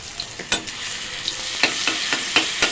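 Garlic fries in hot oil in a kadai with a steady close sizzle, punctuated by repeated sharp scrapes and clicks of a spoon stirring against the pan.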